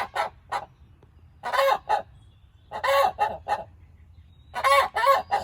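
A hen named Luna calls from a nest box in three loud, honking bursts of several notes each, separated by short pauses, sounding much like a goose; no talking.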